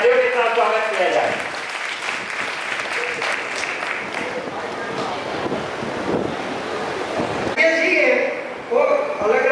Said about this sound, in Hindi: बहुत जोरदार तालियों के साथ स्वागत किया जाए